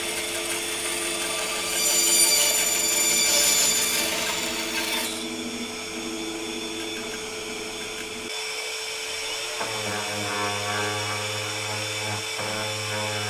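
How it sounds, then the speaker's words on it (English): A bandsaw buzzes steadily while cutting curves in wood, rising in pitch and loudness partway through before settling into a lower, continuous hum. "I'm going to use the bandsaw to cut these curves out"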